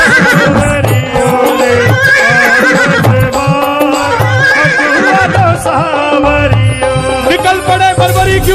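A horse neighing effect, evoking the blue horse ridden by Khatu Shyam, whinnies repeatedly through loud, dense devotional music at a religious storytelling event, with the music continuous and prominent throughout.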